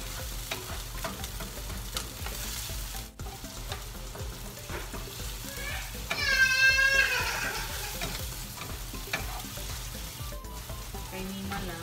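Garlic browns in a pan with steady sizzling and stirring, oil crackling close up, with a brief scraping flurry midway; no talking.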